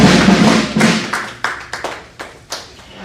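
An audience at an award investiture ceremony applauds a recipient, opening with dense clapping that thins into a few loud, spaced claps and thumps near the microphone.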